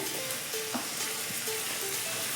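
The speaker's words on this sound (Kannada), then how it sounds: "ಟೊಮೊಟೊ ಮೆತ್ತಗಾಗೋ ತನಕ ಫ್ರೈ ಮಾಡ್ಕೋಬೇಕು" Chopped medium-sized tomatoes fry in a pan for a bitter gourd gravy, giving a steady, soft sizzle with faint stirring scrapes throughout, no voices.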